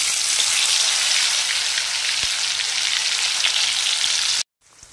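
Batter frying in hot olive oil in a kadai gives a loud, steady crackling sizzle that runs unbroken until it cuts off abruptly near the end.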